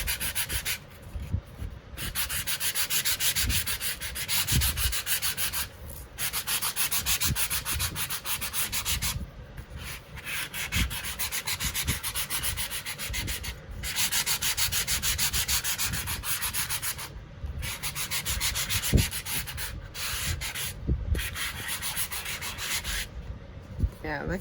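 Steady, continuous sanding rubs across embossed brick-textured card, a dry abrasive scratching that runs close and fairly loud for the whole stretch, with only brief pauses between strokes.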